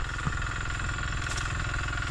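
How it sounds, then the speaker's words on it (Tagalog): An engine-driven water pump runs in a rice field, giving a steady, close mechanical drone with a throbbing low rumble that never lets up across the short stretch. "may narinig tayong makina. Bali nagpapahigop sila ng tubig."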